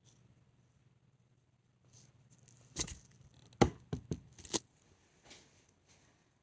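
A kitchen knife dicing food on a cutting board gives a handful of sharp, close chopping taps in a quick irregular cluster, then a couple of softer knocks, with quiet room tone between.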